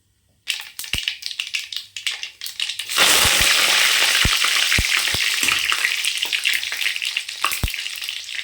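Mustard seeds and urad dal hit hot oil in a kadai and burst into a loud, dense sizzle with sharp popping crackles, settling into a steady fry that continues to the end.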